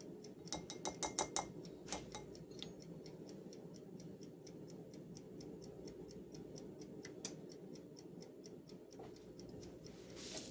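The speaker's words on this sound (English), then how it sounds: "you're hearing the ticking from my timer" A kitchen timer ticks steadily and faintly in a home kitchen during cookie baking, its even rhythm running throughout with a few brief clinks of utensils near the start.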